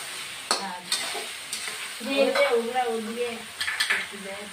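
Four tomato pieces drop into hot oil in a pan for Bengali rui fish curry, sizzling and frying while a metal spoon clinks and stirs in short bursts, close by.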